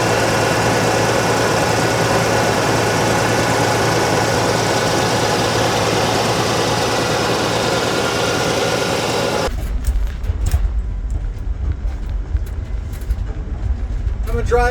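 Low, steady idling rumble of a pickup truck engine with long-travel suspension for most of the clip, then a shift to a deeper, quieter hum with some clatter.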